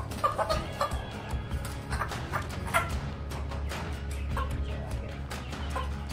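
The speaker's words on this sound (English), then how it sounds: "So she's the mix between one of the silkies, like Albert, and a naked neck chicken." A hen that is a silkie and naked neck mix clucks repeatedly at close range. Other chicken calls and a steady background hum fill in between the short, busy clucks.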